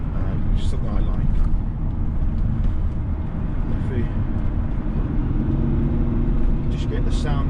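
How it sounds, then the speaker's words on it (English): BMW E39 straight-six engine pulling under load while driving, a steady close drone mixed with road and cabin noise throughout. "If we just get the sound of that from the straight six, and it pulls really nicely."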